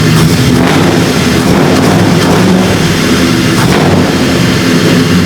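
A loud 4.6 car engine roars continuously, its pitch surging slightly as it revs, with no voices heard.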